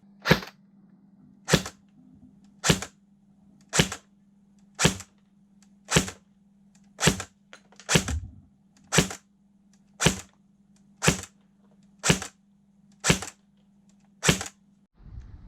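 An airsoft AK Kalashnikov Spetsnaz rifle test-fired at a shield on an outdoor range, about fourteen sharp, evenly spaced shots over a steady low hum, each crack followed by a quick thwack of impact, no voices.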